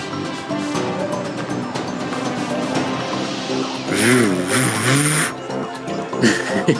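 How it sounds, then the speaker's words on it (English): An ominous engine revs from somewhere in the distance as a sound effect during a tabletop game session, rising and falling over a background murmur, with louder revving swells near the end. "Hear this ominous engine revving up from somewhere in the distance."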